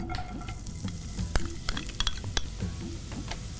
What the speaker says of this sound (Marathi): तर आपण ह्याच्यात एक कांदा टाकूया, बारीक चिरलेला कांदा आहे